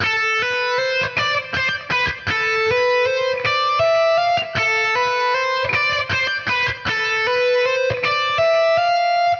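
A distorted electric guitar plays a fast, flowing shred lick of quick legato hammer-on notes, loud and continuous, with no voices.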